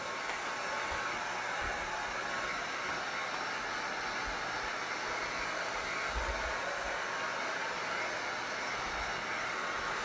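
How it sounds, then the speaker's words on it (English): A hair dryer blows steadily on a layer of textured paint for a burlap-style finish, a constant near, loud broadband whoosh that holds unchanged for the whole stretch with no voices. "I'm going to dry it"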